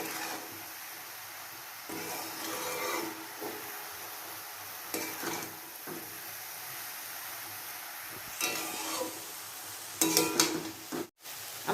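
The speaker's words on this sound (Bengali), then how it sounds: "এবার ডিমটা দিয়ে পুরটা আরেকটু ভালো করে নাড়াচাড়া করে নিতে হবে।" Veg momo filling mixed with egg being stirred in a pan, a steady close scraping and sizzling texture with periodic louder scrapes of the spoon against the metal, no talking.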